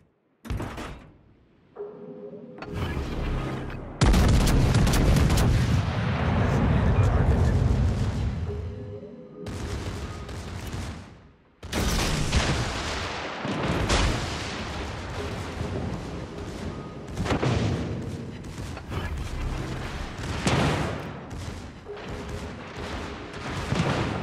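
Heavy ship guns in a naval video game fire in repeated deep booms, with rumbling blasts and clanking mechanical sounds between salvos, loud and continuous.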